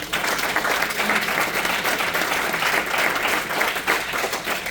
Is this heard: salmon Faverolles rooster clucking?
no